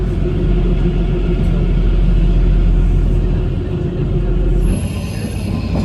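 The Kalka Shimla toy train, the Shivalik Deluxe Express, rolls through a mountain tunnel on a 96-kilometre line, a loud, heavy continuous rumble of wheels and carriages that shifts in tone near the end.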